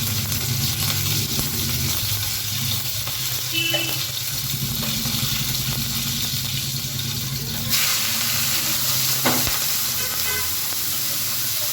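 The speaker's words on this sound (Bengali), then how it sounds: "পালং শাকে আমি শুকনো লঙ্কা, কাঁচা লঙ্কা আর কালো জিরে ফোড়ন দিয়েছি" Dried red chillies, green chillies and nigella seeds sizzle steadily in hot oil for spinach, a loud, continuous frying hiss from start to finish, with a brief horn-like tone and a few clinks partway through.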